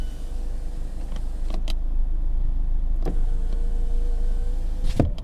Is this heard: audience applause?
no